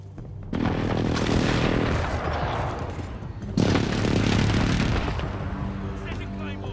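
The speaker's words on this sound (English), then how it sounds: "Precision airstrike, take cover!" Precision airstrike explosions rumble in a Call of Duty match: two long, loud booming barrages, the first starting about half a second in and the second hitting a few seconds later, each rolling and fading slowly, with game voices faintly underneath.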